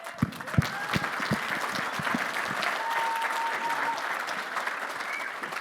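Sustained applause from a conference audience at a speech event, steady and dense throughout with a few sharper claps near the start.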